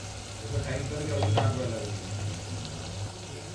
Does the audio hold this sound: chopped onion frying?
yes